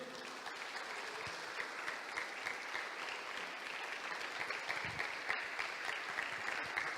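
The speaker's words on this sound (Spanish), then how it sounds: "Dale un fuerte aplauso al Señor." A church congregation claps together in sustained applause during a worship service, even and moderately distant, with faint voices mixed in.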